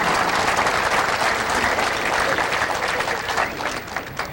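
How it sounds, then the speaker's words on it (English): A Filipino audience at a 2002 nine-ball pool match applauds a good shot, with dense, steady crowd clapping that holds throughout and fades slightly at the end. "the Filipino audience always applauds a good shot"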